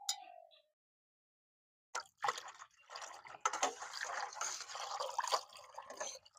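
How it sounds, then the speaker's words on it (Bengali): Sugar water is poured into strained mango pulp for aam panna; after a short clink and a silent gap, a close, soft liquid splashing and trickling continues steadily for several seconds. "এবার এর মধ্যে চিনির জলটা যেটা ফেটে রেখেছে ভাই, চিনির জলটা দিয়ে দাও ভাই এতে।"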